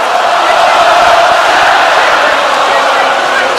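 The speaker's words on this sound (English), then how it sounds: "the crowd have got really behind her" A boxing arena crowd backs Savannah Marshall in her fight against Claressa Shields, a loud sustained roar of cheering and shouting with a commentator talking over it.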